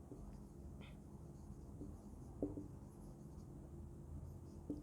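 Handwriting while solving a Class 11 maths problem on sets, with faint, soft scratching strokes and occasional light taps against quiet background hiss.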